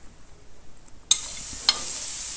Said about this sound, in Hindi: अब थोड़ी देर के लिए हम प्याज और लहसुन को सौते कर लेंगे।